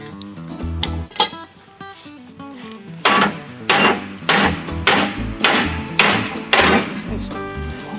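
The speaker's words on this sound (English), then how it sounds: "Sledgehammer to Break it. drive it because they're fused right in their holes." A sledgehammer strikes repeatedly to break and drive out fused metal parts, giving loud close ringing blows in an uneven rhythm of about a dozen hits, with metallic clanks trailing each impact.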